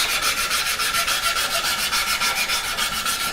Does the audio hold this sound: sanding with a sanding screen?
yes